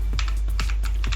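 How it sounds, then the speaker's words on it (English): Quick bursts of keystrokes on a computer keyboard while entering a tunnel description in pfSense, three short clusters of clicks close to the microphone over a steady low hum. "So I will just type WireGuard"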